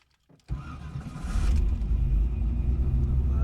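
A car engine with an MSD starter cranks briefly after a moment of silence, then catches and settles into a steady, loud idle rumble close by.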